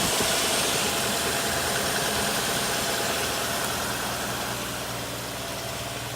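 A 1960 XK Ford Falcon engine running with the choke still pulled out, a loud, dense, steady idle with rough knocking pulses, heard close by and easing slightly toward the end, with nobody speaking.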